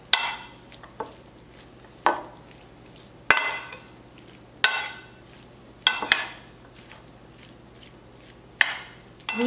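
Elote corn being stirred with lime juice and cheese, wet squishy scraping strokes in a regular rhythm, roughly seven separate spoon passes, close and clear with no talk.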